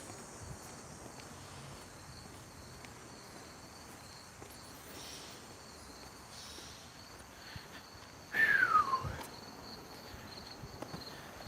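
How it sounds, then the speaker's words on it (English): A bunch of crickets chirps faintly in a steady high trill through the whole stretch, joined near the end by a brief louder rustle close by. "Bunch of crickets."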